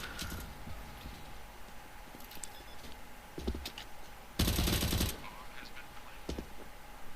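Counter-Strike: Global Offensive gunfire comes as short scattered shots and one loud sustained burst near the middle, over a quiet game background.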